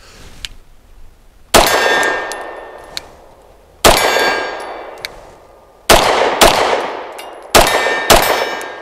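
Pistol shots from a BUL Armory EDC striking steel targets, each hit a loud bright clang ringing out and slowly fading, four strong hits in uneven succession with faint earlier pings.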